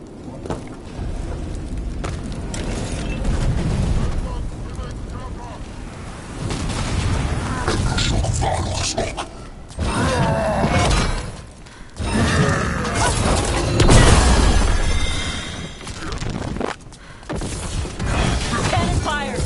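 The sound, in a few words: cannon fire in the video game Dragon Age: The Veilguard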